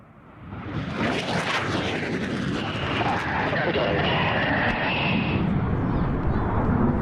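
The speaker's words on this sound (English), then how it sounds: "using the Tornado's highly effective 27mm Mauser cannon" A Panavia Tornado jet making a high-speed strafing run at a Scottish airshow, firing its 27mm Mauser cannon: a loud, sustained roar and rumbling blast that swells and holds, with an announcer talking over it.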